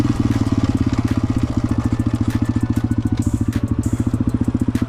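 A motorcycle engine revs steadily through a smooth rev-matched gear change, its rapid low pulsing firing beat held close and loud for the whole stretch with no talking.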